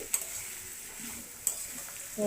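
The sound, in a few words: onion frying in pan, stirred and broken with spatula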